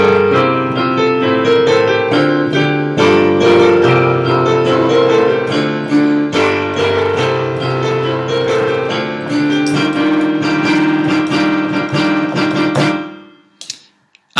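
Solo piano plays a melody on top of steady chords with a bass note at the bottom, loud and continuous for about thirteen seconds before it stops abruptly.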